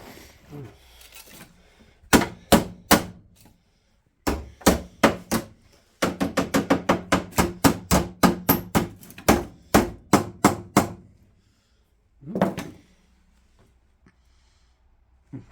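Repeated sharp metallic hammer blows on an Austin A30 door panel during restoration, first a few spaced strikes, then a fast steady run of bangs, and one last hit after a pause.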